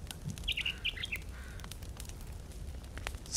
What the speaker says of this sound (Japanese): また鳥が。